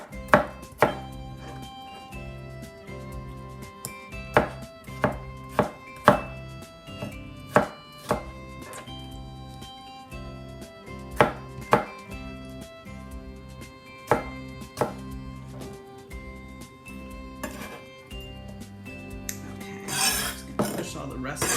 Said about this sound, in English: So just slicing up some fresh tomato to throw in there.